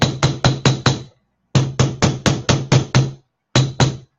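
Metal is being hammered flat in three bursts: five blows, then seven, then two. The strikes are steady, loud and close, with brief pauses between the groups.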